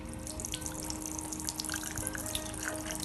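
Lukewarm tap water runs steadily over a CPU being washed, a close, continuous splashing trickle with small drips and gurgles throughout.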